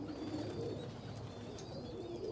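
Pigeons coo softly in a steady, low murmuring chorus as they feed at morning breakfast, with faint chirps above a constant background hiss, close but quiet and with no voices.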